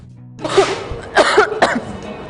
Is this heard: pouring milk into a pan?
no